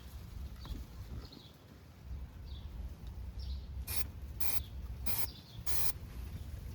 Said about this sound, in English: I'm gonna stick the product inside here and I'm gonna spray it going backwards.